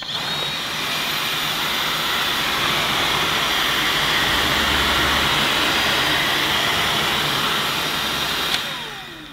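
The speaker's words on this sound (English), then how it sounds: "forward and backward pass using this nozzle on low setting and then one on turbo" A Bosch Unlimited Serie 6 Pro Animal cordless stick vacuum whines steadily on its low setting while picking up pet hair with a nozzle, loud and close, a constant airy hum cutting off near the end with no talk.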